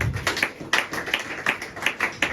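A congregation claps in a steady rhythm during a church service, with sharp repeated hand claps about every quarter second, fairly close and continuous through the short stretch.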